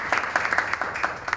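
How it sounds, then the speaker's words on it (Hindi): An audience at a Women's Day award event claps, with a short burst of quick, bright applause from a modest crowd holding at an even level. "तालियां।"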